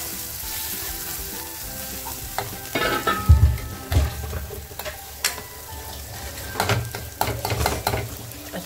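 Village-style mutton masala frying in a pan for rassa, with steady sizzling and repeated stirring and scraping strokes that get louder and more frequent toward the end.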